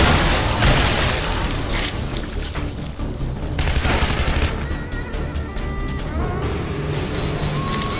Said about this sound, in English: Lead them up here and then shoot the barrels. Because red barrels always explode.